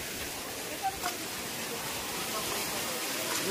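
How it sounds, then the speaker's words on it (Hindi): Garva Ji waterfall near Alwar, Rajasthan, swollen during the monsoon, roars in a continuous broadband rush of falling water, close and steady, with a couple of brief knocks early on. "ये यहाँ पे झरना गिर रहे हैं, देख सकते हो कितने भयंकर झरने।"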